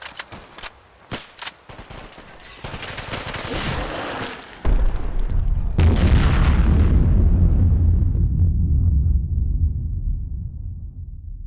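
Exploding zombies go off in Fallout 4, starting with sharp scattered cracks and pops before a loud blast at about four and a half seconds. A second heavy boom follows with a long rumbling roar that slowly fades.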